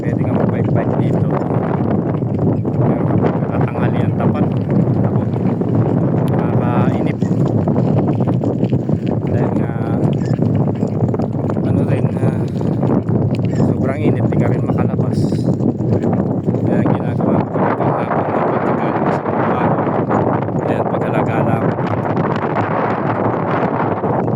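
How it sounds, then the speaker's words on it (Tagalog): Strong wind buffeting the microphone while cycling outdoors, a loud continuous roar filling the whole stretch, with someone talking over it at times. "sarap ng hangin fresh fresco"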